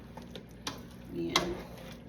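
Shrimp pancit bihon being stirred in a pan, with soft metallic clinks of a utensil against the pan and a faint low sizzle, quiet and close, ending in a brighter scrape or tap.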